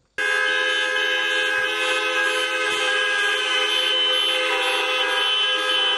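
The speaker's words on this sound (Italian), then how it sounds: "Clacson che strombettano per chiedere attenzione sulla sanità calabrese" Car horns blaring together in a sustained, loud chorus at a drive-in protest for Calabrian healthcare in front of the regional offices, holding steady for several seconds without pause.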